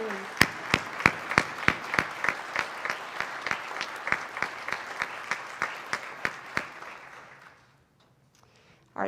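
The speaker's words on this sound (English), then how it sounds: "let's give all of our seniors a huge round of applause" A concert audience at a school band concert claps for the seniors in a steady, rhythmic unison beat that goes on for several seconds, then fades into near silence.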